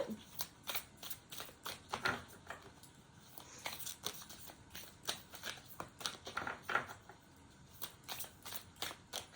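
Oracle cards shuffled by hand during a tarot-style collective reading, giving repeated soft riffling and flicking bursts at close range in an irregular rhythm, with no talking.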